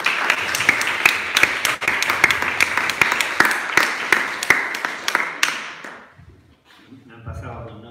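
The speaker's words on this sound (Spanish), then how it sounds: "Vamos, un gran aplauso para él." Applause from a live motivational talk audience, dense rapid clapping filling the room for about six seconds, then quickly dying away into a quieter tail.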